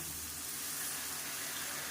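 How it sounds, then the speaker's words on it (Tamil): Water gushes steadily into a cooking pan while a South Indian side dish for idli and dosa is made, about three tumblers poured into a ground roasted-gram mixture; a close, continuous rushing pour with no talking. "இப்போ வந்து ஒரு மூணு டம்ளருக்கு தண்ணி சேர்த்துக்கலாம்"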